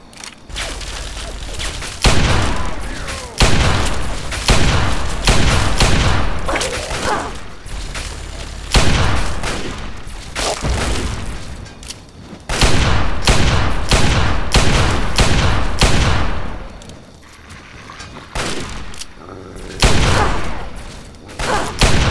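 Sustained gunfire from Fallout 3, loud and close, with rapid bursts and heavy booming shots repeating almost continuously through the clip.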